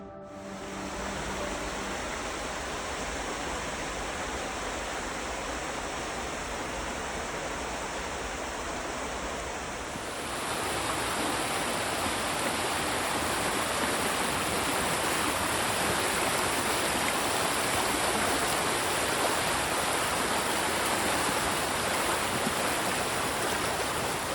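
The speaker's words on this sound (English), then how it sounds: "now we are at the river, and it's a very short little jaunt. Up there is the waterfall." A river and waterfall on an Oregon hike give a steady, loud, full-bodied rushing roar that continues unbroken, growing slightly louder and fuller about halfway through, with no voices.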